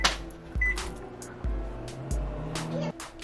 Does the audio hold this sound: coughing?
no